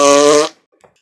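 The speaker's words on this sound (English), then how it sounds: "I farted." A single loud, tonal fart, buzzing for about half a second up close before cutting off into quiet.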